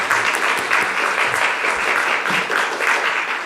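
Steady audience applause filling the room, many hands clapping densely and evenly at a constant loud level, with no voices over it.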